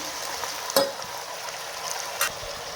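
Cauliflower and potato pieces frying for pav bhaji make a constant soft sizzle, broken by two sharp scrapes of a stirring spoon against the pan.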